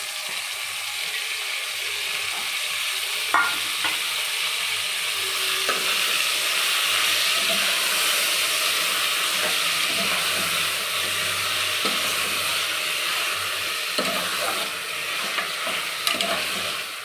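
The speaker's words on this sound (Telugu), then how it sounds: "ఇలా కొంచెం బాగా ఫ్రై అయిన తర్వాత అల్లం వెల్లుల్లి పేస్ట్ బాగా వేగిపోయిందండి" Ginger garlic paste fries in a pan for mutton masala curry, a loud continuous sizzle with occasional scraping stirs and clicks running throughout, close to the microphone and without talk.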